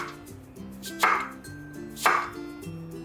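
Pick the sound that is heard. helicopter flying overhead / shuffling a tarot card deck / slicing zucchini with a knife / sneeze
slicing zucchini with a knife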